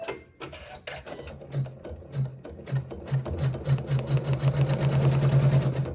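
A sewing machine stitches a tack down through quilting fabric, starting with a few slow, separate stitches and speeding into a fast, steady, close-up whirring rhythm.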